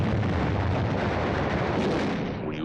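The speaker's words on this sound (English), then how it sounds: "We use hand grenades." Hand grenade explosions in battle, a continuous heavy rumbling roar of blasts that stays loud throughout, with no talk.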